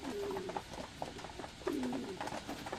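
Pigeons give two soft, low coos, separated by a short pause, against quiet background noise.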